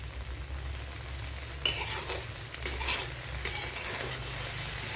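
Tender okra (vendakka) sautés quietly in an open pan, a soft, steady sizzle broken by a few sharper scrapes and clinks of a spatula stirring against the metal.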